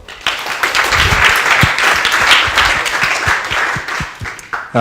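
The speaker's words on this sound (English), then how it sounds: "we'll give her a round of applause" Close, loud audience applause fills a lecture theatre, dense clapping with a few sharp individual claps standing out, tapering near the end.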